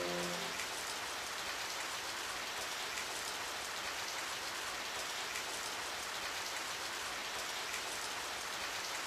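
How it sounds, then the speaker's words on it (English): Steady rain pours down in the role-playing game Radiant Historia, a dense, even hiss that fills the whole stretch without pause or voices. "It started to rain."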